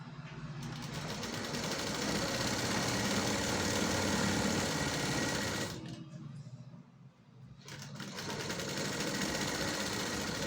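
A sewing machine runs steadily while stitching lining onto a blouse belt, a dense mechanical whir that drops out briefly mid-way and then resumes at full speed.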